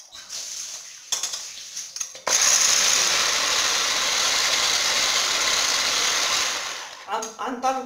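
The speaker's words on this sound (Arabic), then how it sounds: "غنطلبو البيضات ديالنا حتى يطلعو معانا يعملو الكشكوشة" An electric mixer whipping eggs and sugar for a cake, starting with short bursts, then running loud and steady for several seconds with a high whine, with a voice speaking before and after.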